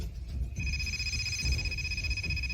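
A telephone rings with a steady, high electronic trill that starts abruptly and sustains over a low background rumble, fairly close and clear.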